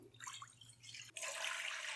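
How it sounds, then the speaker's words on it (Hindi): Water pours into a cooking pot. After a few soft drips and splashes it becomes a steady, bright, close pour. "उसमें पानी डाल देंगे"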